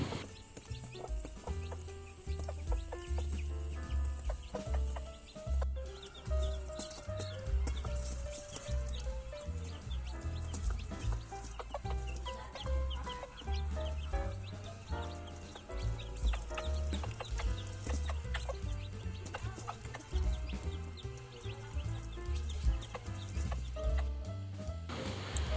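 Breeder hens, including a Colombian buff or partridge hen, cluck in a backyard chicken coop, their calls scattered and fairly faint beneath steady background music.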